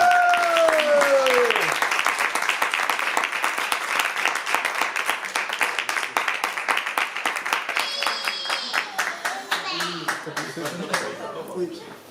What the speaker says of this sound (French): Je vous demande d'applaudir très fort, faire un tonnerre d'applaudissements à Yves